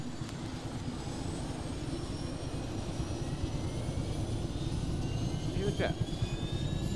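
A steady, droning aircraft engine in the Arma 3 video game rumbles continuously, with a high whine above it, while players talk over it.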